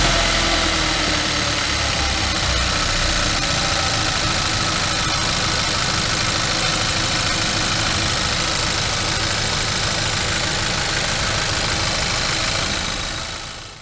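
A 2013 Kia Sportage with a naturally aspirated 1.6 GDI direct-injection petrol engine idles steadily nearby, a constant mechanical hum with a light ticking texture, cutting off at the very end.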